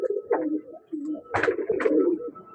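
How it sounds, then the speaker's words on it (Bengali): Pigeons from a breeding pair kept for collection coo in soft, repeated low murmurs close by, with a couple of louder bursts of cooing midway. "যারা পায়রা কালেকশন করতে চাচ্ছেন, এই পেয়ারটাও দেখিয়ে দিলাম।"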